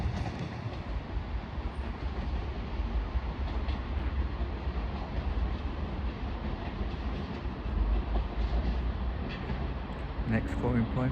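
A train passing through Derby station on the Midland Main Line, a loud continuous rumble with rhythmic wheel clatter close by, lasting the whole stretch, with a station announcement heard over it.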